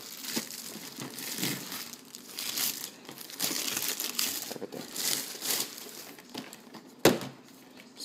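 Air-filled plastic packing bags crinkle and crunch up close while an Audio-Technica ATR2100 USB microphone is unboxed, a continuous rustling with bursts of louder crumpling and a sharp knock near the end.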